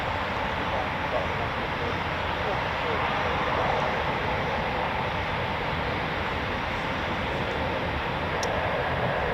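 A Royal Air Force Eurofighter Typhoon FGR4 jet on approach to an RAF station gives a steady, loud, broadband roar that holds at an even level throughout, with no clear rise or fade.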